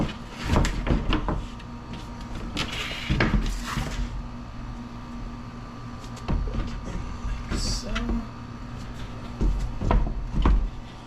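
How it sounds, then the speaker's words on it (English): A prefabricated door being swung open and shut during installation gives several sharp wooden knocks and clunks, spaced irregularly over steady low room noise, fairly close and loud. "it's gonna allow you to open and close the door"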